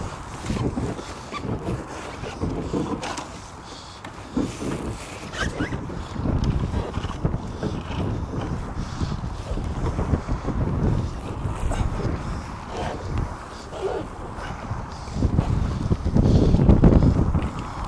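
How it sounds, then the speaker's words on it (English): Strong wind out on the water buffets the microphone in a steady roar, with water sloshing and splashing close by and gusts swelling louder toward the end. "it's pretty nasty out here, windy and nasty"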